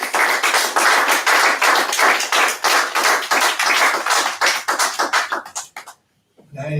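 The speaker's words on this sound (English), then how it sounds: "could you once again give both of the brothers a round of applause?" A temple congregation gives a round of applause for two brothers at a service, a close, dense burst of clapping that keeps up steadily and then thins out before a voice begins at the end.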